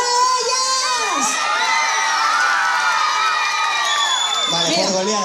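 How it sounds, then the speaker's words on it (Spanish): A crowd cheers and whoops at a 2015 community celebration in Ciañu, with loud children's shouts and rising, wavering yells filling the whole stretch at close, steady volume. "¡Aplauso para ellas!"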